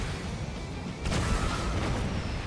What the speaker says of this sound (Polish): Ja też przez te wybuchy